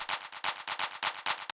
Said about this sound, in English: Snare or clap fill.